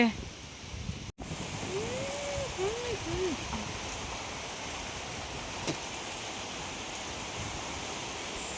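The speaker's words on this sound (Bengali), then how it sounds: "এত পরিমাণে বৃষ্টি হচ্ছিল আজকে" Heavy rain from a Kalbaishakhi (nor'wester) storm pours in a constant, even hiss, with a few brief whistling chirps rising above it early on.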